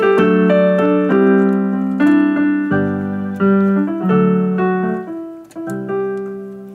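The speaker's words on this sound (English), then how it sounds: "but I set it back to grand piano." A digital piano on its grand piano voice plays a melody over sustained chords, with clear struck notes and a steady, moderately loud level and no talking.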